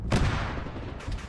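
Mortar rounds in a military shooter game land as heavy booming thuds, a loud blast up front and another rumbling impact about a second later, set against a steady low battlefield roar.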